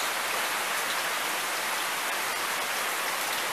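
Heavy rain runs off the edge of a lanai roof with no gutter and drips straight into a backyard pond during Hurricane Lane. The dense, steady patter and splashing carry on without a break and no one speaks.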